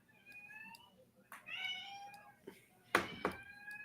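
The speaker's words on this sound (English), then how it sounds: "That's such a loud cat." A domestic cat meows loudly several times in quick succession, clear harmonic cries close by, with a few knocks and faint room noise between them.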